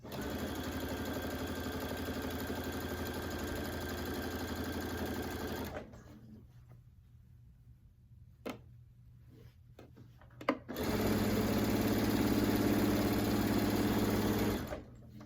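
A sewing machine stitches down one side of an alphabet quilt panel in a steady, fast whirring run. It stops for a few seconds, with faint clicks, then starts up again just as loud. No one speaks.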